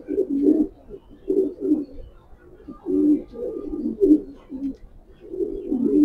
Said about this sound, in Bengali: কথা না বেড়ে কবুতরগুলো দেখাই